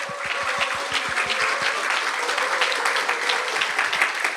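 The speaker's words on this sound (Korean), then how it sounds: "여러분들의 큰 박수로 시작하겠습니다" Audience applause opens a 2025 Korean speech contest for international students, a steady dense clapping from a hall crowd lasting the whole stretch, with low thumps early on and no talk over it.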